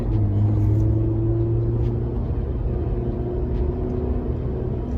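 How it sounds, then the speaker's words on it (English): A manual car's engine hums steadily and loudly from inside the cabin as it pulls away and shifts into second gear, a continuous low rumble with a slight drop in pitch partway through. "So now I'm gonna shift into second gear."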